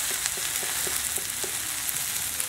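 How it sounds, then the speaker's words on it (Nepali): Fermented soybean kinema frying in a pan with turmeric for a Nepali curry gives a steady, close, hissing sizzle, with faint stirring clicks scattered throughout. "बेसार हालेर फ्राई गरेको देख्छौँ"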